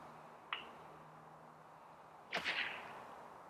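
A faint tick comes first, then a crisp strike of a Callaway Epic golf iron on the ball with a short whooshing swish, quiet and close in an otherwise still setting.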